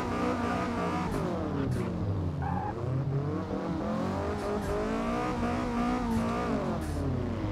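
Car engine in the racing video game Forza Motorsport held at high revs, bouncing against the rev limiter with a wavering, stuttering buzz over faint tire noise, loud and continuous without speech.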